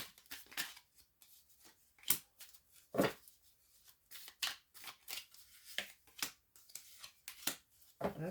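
Tarot cards are shuffled by hand in a quiet room, giving a series of crisp riffles and soft slaps that come in irregular bursts, close and fairly faint.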